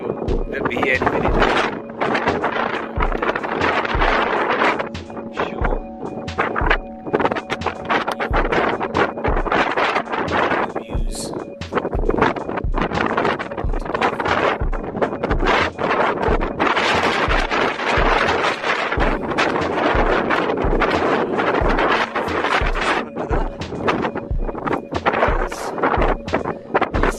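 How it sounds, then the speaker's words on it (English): Strong wind roars across the summit of Ben Nevis in cold conditions, buffeting the microphone in loud, continuous gusts with rumbling bursts throughout. "very cold, very windy"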